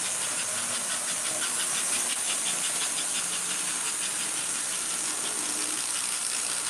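A post-war Lionel model locomotive runs steadily on its track, giving a continuous mechanical whir with a fine rapid ticking and a hissy, steam-like wash, fairly close and with no talking.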